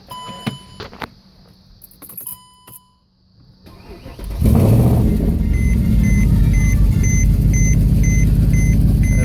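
A straight-piped Mercedes C63 AMG with 116,000 miles and a check engine light cranks and fires up loudly, settling into a deep, steady, rumbling idle after some quiet clicks and beeps.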